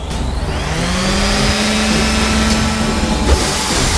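An eccentric sander runs steadily and loudly up close, a dense continuous whirring hiss with a faint rising tonal whine.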